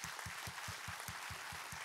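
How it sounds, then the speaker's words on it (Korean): A church congregation at a Korean Sunday worship service claps together in a steady, even rhythm of about five claps per second. The clapping sounds faint and a little distant. "우리 하나님께 감사와 영광의 박수 올려드리겠습니다"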